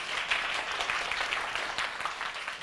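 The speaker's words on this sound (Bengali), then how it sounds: "তাদের জন্য একটি জোরে করতালি।" A crowd of audience members claps steadily for about three seconds at the Ispahani Mirzapore Banglabid festival 2025, a Bangla language competition, with no clear voices over the dense, even applause.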